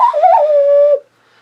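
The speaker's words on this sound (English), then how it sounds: "I often do whistles or my little hand thing." A single clear human whistle, loud and close, sliding through a short wavering phrase before settling on a held steady note that stops abruptly, followed by near silence.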